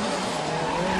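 Tires squealing hard as a Nissan S13 Silvia and a 2JZ-powered Toyota Supra drift side by side at a Formula Drift Japan competition, a continuous loud broadband screech with engine roar underneath.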